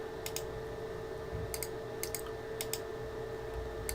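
Quiet clicks of a computer mouse or keys at a desk, several brief sharp taps in small clusters over a steady low hum, no voices.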